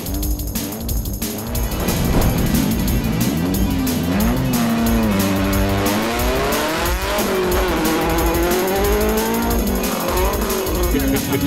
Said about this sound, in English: more G1 drifting and sideways action on the G1 DVD range